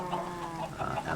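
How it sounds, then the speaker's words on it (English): Minecraft chickens packed into a one-by-one pen cluck in short, overlapping calls, close and moderately loud over a steady background hum. "I've got chickens all in my 1x1 square"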